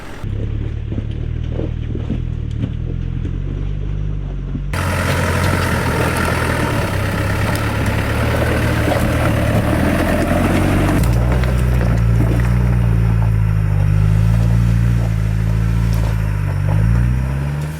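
A Land Rover Defender engine rumbles and revs while it climbs a rocky off-road track, a loud deep drone that surges and strains under load, with clunks from the rough terrain.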